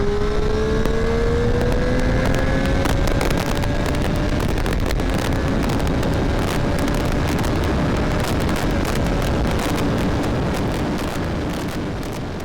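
A Triumph 765R sport motorcycle revs up in sport mode with rising pitch as it accelerates, its roar mixed with heavy wind buffeting the microphone.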